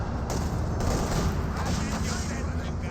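Rifle fire from penal troops in the Company of Heroes 2 strategy game, dense crackling volleys sustained throughout amid battle noise, steady and moderately loud, with a voice talking over it.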